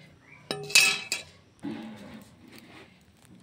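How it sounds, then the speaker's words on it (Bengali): Chang fish tipped into a metal cooking pot with a sharp clink of the utensil against the rim, followed by a soft wet splash and sizzle, brief and close. "এখন আমি মাছটা ঢেলে নিব"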